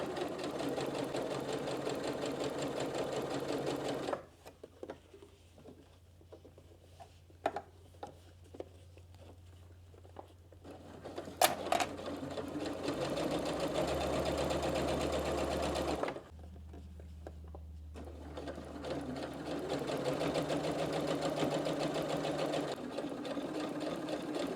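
A sewing machine stitches stretch fabric for fingerless gloves in steady running bursts, with a long quiet gap of small handling clicks and taps in the middle before the motor hums back up at close range.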